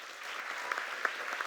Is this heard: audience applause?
yes